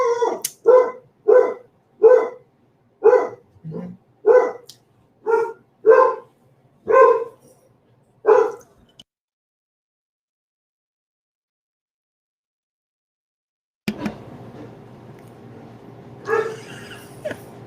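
A dog barks about ten times in a steady, evenly spaced run of loud close woofs, then falls silent; after a long pause a low background rumble comes in.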